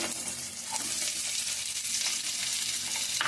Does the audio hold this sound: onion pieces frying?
yes